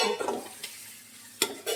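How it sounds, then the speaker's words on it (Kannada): Tomato and onion, with coriander leaves just added, fry in a pan for a crab sukka dish. A soft sizzle is broken by a few brief scraping stir strokes, close and clear, with no voices. "ಈಗ ಟೊಮೆಟೊ ಮತ್ತೆ ನೀರುಳ್ಳಿ ಫ್ರೈ ಆಗಿದೆ."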